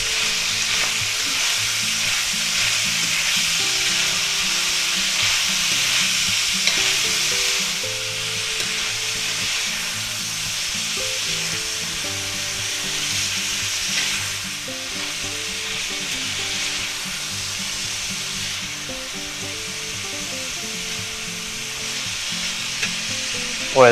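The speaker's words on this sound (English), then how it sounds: "we're going to add all our vegetables. Put them right in there. Just like that. And we're going to stir them in." Vegetables stir-fry with ground beef in a pan, a loud, continuous sizzle that carries on throughout, with occasional stirring scrapes and no talk.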